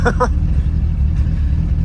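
Loud, deep exhaust rumble from an Acura Integra fitted with a Spoon N1 exhaust, droning steadily throughout, with a short burst of voices near the start.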